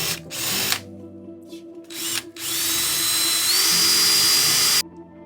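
A power drill boring into a wall while a flush mount for a 43-inch Samsung TV goes up, short bursts then one long steady whine that rises slightly in pitch, close and loud, ending abruptly.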